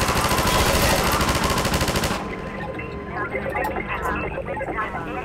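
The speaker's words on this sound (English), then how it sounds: "Get on the turret. This gun just tears apart everything." Mounted turret gun in the Half-Life video game fires a loud, rapid continuous burst for about two seconds, then stops, leaving quieter game ambience with scattered distant sounds.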